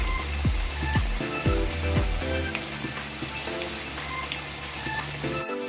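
Fish roe fritters fry in hot oil with a steady, dense sizzle that runs through the whole stretch. Several low thumps and clunks from the pan sound near the start, and no one speaks.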